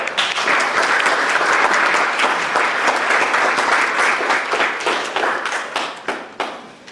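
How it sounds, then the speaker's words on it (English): An audience at a public meeting gives a round of applause for invited guests: loud, dense clapping that thins toward the end into scattered individual claps that fade out. "let's give them a round of applause"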